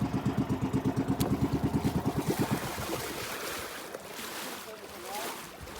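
A small racing-boat engine (bangka) chugs in a fast steady pulse for a couple of seconds, then fades into a rushing wash of water and wind.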